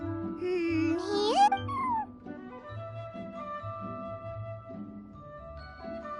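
A large cat in the Genshin Impact video game lets out a single rising meow, followed by soft game music and chimes.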